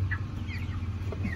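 Four-week-old broiler chickens in a poultry house make brief, soft clucks and chirps over a low, constant background hum.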